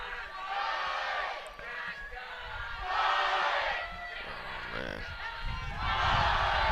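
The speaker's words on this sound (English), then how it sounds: "Texas always brings a crowd" Spectators at a US Quidditch Cup match between Texas and Maryland in Round Rock, Texas, cheer and whoop in three distant bursts, with voices mixed in.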